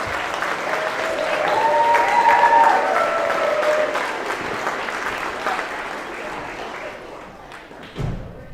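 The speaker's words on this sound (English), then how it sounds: "One big round of applause for Braden Forrest!" An audience at a school speech and debate festival breaks into loud, sustained applause, a dense, near wash of clapping that swells and then slowly fades. Cheering voices are mixed in.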